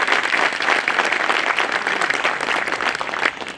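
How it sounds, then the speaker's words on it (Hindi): Newly enrolled advocates clap loudly for themselves at a Bar Council of Delhi enrolment meeting, a dense, continuous roar of many hands filling the room. "जोरदार ताली बजाइए अपने लिए, वकील बनने के लिए"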